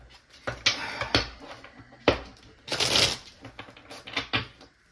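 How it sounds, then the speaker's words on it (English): Tarot cards are shuffled up close in several crisp, irregular bursts of riffling and slapping, without anyone speaking. "I don't want to shuffle them the wrong way."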